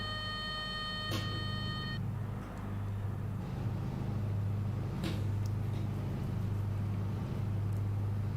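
A low V8 race car engine drone in Gran Turismo Sport rolls steadily in the background, swelling slightly at times, with a couple of sharp clicks and a brief electronic tone early on.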